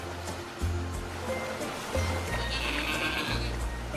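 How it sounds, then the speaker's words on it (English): A goat bleats loudly and repeatedly up close in a TV commercial, its wavering, nasal cries coming in several long pulses with an outdoor ambience behind. "You were expecting a horse, but you got a goat"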